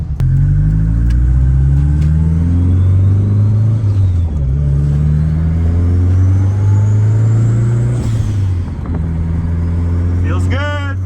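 Built Subaru WRX wagon engine heard from inside while driving, loud and close, rising through revs in repeated pulls with gear changes between them.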